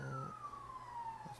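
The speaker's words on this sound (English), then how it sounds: "Sirens." A distant emergency vehicle siren wails steadily, its tone gliding slowly downward across the whole stretch over a low background rumble, faint and far off with no talk.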